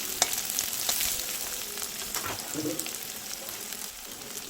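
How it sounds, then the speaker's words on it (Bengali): Crushed garlic and chopped onion fry in hot oil for cauliflower bharta, a steady dense sizzle with a few brief stirring scrapes and light clicks near the start, close by and fairly quiet throughout. "পেঁয়াজগুলোকে বাদামি করে ভেজে নেব।"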